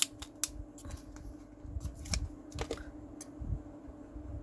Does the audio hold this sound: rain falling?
no